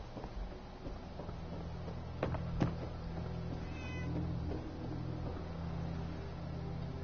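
A faint cat meow from the Fallout 4 video game sounds softly once or twice beneath a steady low game ambience, distant and quiet, with no speech.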